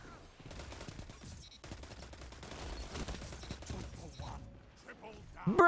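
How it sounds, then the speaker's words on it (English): A shotgun fires repeatedly in a Destiny 2 match, giving a string of punchy shots amid busy combat noise that builds louder toward the end, with voices talking over it. "Oh, this shotgun's pretty good too."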